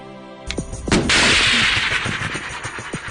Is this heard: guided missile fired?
yes